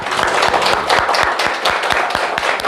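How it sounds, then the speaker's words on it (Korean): A church congregation claps in a fast, even rhythm during a worship seminar, the claps loud and close over a dense wash of crowd noise. "우리 아버지께 영광의 박수 돌립니다"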